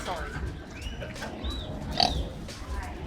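A pig grunts a few times close by, mixed with people talking and general background noise.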